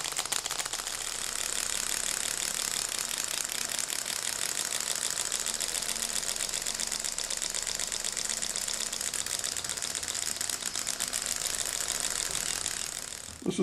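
A 6-cylinder Stirling engine mechanism turns slowly with a steady stream of fast, dense clicking and whirring. It runs continuously at close range and no one speaks.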